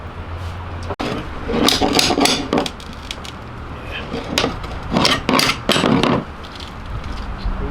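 Scraping and knocking as a pry bar works up a fiberglass boat panel. The clatter comes in bursts with a sharp crack near the start, and speech is heard alongside.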